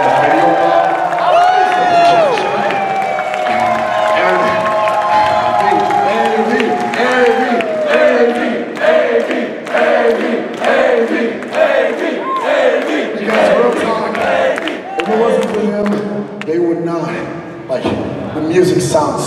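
Large convention audience at a concert applauds and cheers loudly and continuously, dense clapping mixed with shouts and whoops, with music-like tones underneath throughout.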